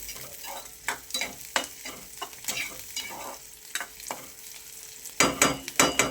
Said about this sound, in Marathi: परतून घ्यायचा कांदा